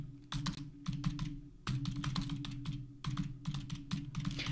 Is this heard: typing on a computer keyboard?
yes